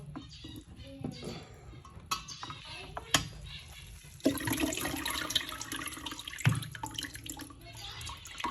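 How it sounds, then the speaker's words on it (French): Soybeans rinsed under running water, a faint trickle and clinks at first, then a steadier, louder rush of water with a sharp splash near the end. "Donc il faut juste rincer. Un petit coup d'eau."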